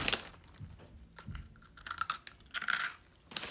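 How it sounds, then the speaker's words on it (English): Protein snack chips, sea salt and barbecue flavors, crunched while being eaten up close, with several bursts of crisp crackling and rustling spread across a few seconds and no talking. "Listen to that crunch."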